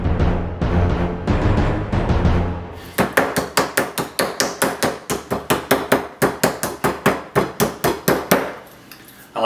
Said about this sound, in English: we're going to use this Thor-sized meat mallet to tenderize the meat